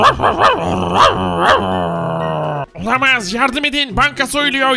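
A dog in the video game Minecraft growls and barks at a bank robber, with low, rumbling snarls over excited, panicked talking that continues throughout.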